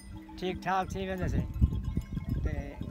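Sheep bleating in a desert village, a couple of wavering bleats near the start, then a busy mix of rustling and knocks, with a person talking through it.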